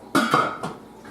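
A lid goes onto a pot of jambalaya coming up to a boil, giving two or three close metallic clanks and a brief ringing rattle, then quiet.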